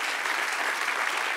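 A church congregation applauding during a sermon, a dense, steady wash of clapping that fills the space evenly from start to finish with no talk.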